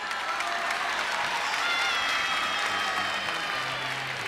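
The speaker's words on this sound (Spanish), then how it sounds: "lo recibimos con un gran aplauso, don Arturo." Steady applause from a 1982 Chilean TV studio audience, a dense wash of clapping that holds evenly throughout without a break.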